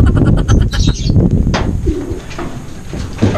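Racing pigeons coo close by in a loft, with steady throaty murmurs from several birds overlapping continuously alongside faint chirps and rustling.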